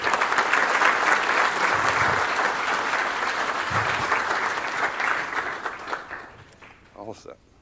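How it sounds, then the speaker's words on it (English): A conference audience gives a warm round of applause as a keynote speaker takes the stage, loud dense clapping that holds steady, then thins out and dies away into a few scattered claps near the end. "please help me to give a warm round of applause for Chuck"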